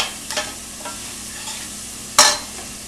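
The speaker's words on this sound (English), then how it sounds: "we're just going to stir that around a bit. Crank the heat up" Food with hot chili powder stirred in a hot pan, a low sizzle broken by a few scraping strokes, including one louder scrape near the end.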